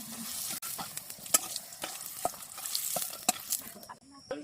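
Pointed gourd slices sizzle and fry in a pan, with scattered scraping stirs and clinks over the steady crackle.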